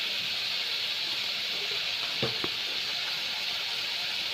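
Curry simmering in a pan after salt and chili powder go in, with a steady soft sizzle and hiss throughout and a couple of faint clicks midway, no voices.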